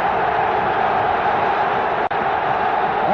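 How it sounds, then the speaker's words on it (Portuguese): A packed football stadium crowd at Morumbi during the 1982 Corinthians versus São Paulo final, a dense, continuous roar of thousands of fans filling the space, loud and unbroken apart from one momentary cut. "torcida."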